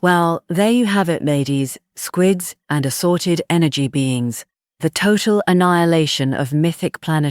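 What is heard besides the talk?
None of the usual background noises is heard.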